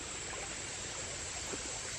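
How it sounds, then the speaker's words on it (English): Creek water flows on a wet, humid forest trail, a continuous soft rush and trickle heard close and steady, with no voices. "Taking a little break here at this creek"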